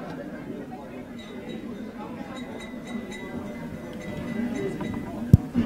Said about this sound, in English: maybe I need some glass clinking.